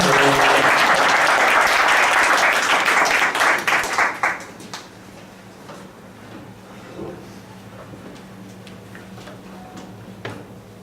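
A church congregation at a Sunday worship service gives a second round of applause for a testimony speaker; loud dense clapping for about four seconds fades out, leaving a quiet room with scattered small knocks and rustles.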